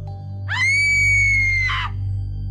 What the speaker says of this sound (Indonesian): Tiba-tiba terdengar suara teriakan seorang perempuan.